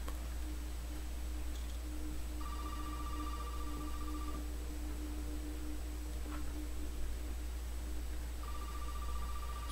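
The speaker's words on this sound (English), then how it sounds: "Man, I don't want to pick up the phone," A telephone rings in the video game Resident Evil 7, a thin electronic ring repeating in spaced bursts over a constant low hum.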